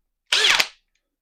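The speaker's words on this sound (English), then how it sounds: "So I'm using a 1-inch Forstner bit, my handheld drill." A handheld drill bores with a 1-inch Forstner bit into a heavy wooden workpiece, giving one short, loud burst of about half a second with a rising whine that cuts off abruptly.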